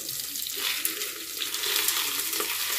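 Beans poured into a hot pan with garlic and sausage set off a loud continuous sizzle and frying hiss, with stirring scrapes and bubbling over the short stretch.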